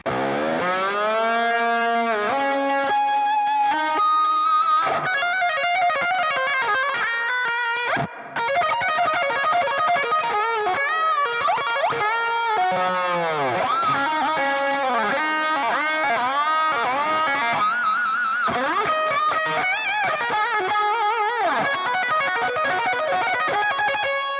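A distorted electric guitar plays a solo alone, with bending, sliding notes and fast runs, sustained and steady in volume throughout.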